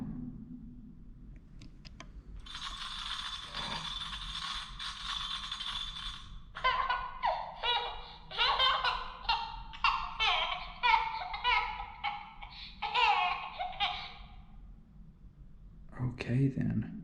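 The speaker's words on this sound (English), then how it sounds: "If the doll shakes any, then it makes that sound." A shaken, touch-activated doll gives off a burst of bright hissy rattling, then a run of chirpy, giggly electronic sounds, fairly quiet, with soft low rumbling beneath, in a tunnel.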